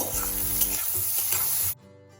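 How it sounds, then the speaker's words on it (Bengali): Two medium-size onions sizzle and crackle in hot oil while being stirred with scrapes and clinks in a pan, a close, steady frying hiss that cuts off abruptly near the end, with no talk. "দুটো মিডিয়াম সাইজের পেঁয়াজ নিয়েছি পেঁয়াজ ভালো করে ভেজে নেব"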